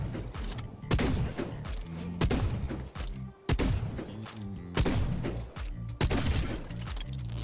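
Tempest shotgun in the video game Wayfinder fires six heavy, booming rounds at a steady normal rate, each blast followed by a short mechanical rattle, loud and close with no talking.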